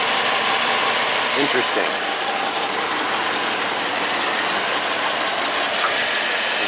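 A Jeep Pentastar V6 idles with a misfire, a steady broadband engine drone running the whole time with faint uneven knocks near the start, close by, while someone briefly speaks over it.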